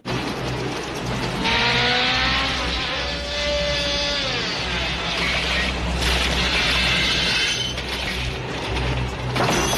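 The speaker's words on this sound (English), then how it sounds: "that's why the car suddenly swerved so hard" A car swerves hard during a film stunt, engine roaring and revving under mechanical rattling and a rising squeal, loud and continuous with bursts of harsh noise throughout.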